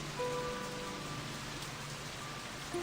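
Rain falls steadily in the video game Tales of Graces f, a soft, even hiss of drops with no breaks and no voices.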